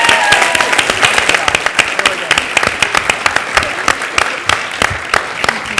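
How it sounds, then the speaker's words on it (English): Audience applause at a student town hall at the JFK Library, steady dense clapping that fills the room, with loud individual claps standing out near the front and some voices mixed in. "Can we give them another round of applause?"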